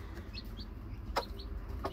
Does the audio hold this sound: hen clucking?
yes